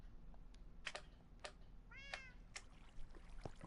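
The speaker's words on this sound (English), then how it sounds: "Put cat sounds in here." A cat in Minecraft meows several times in short, spaced calls, and one call has a wavering, drawn-out tone. They play over a steady low background hum, with no voice.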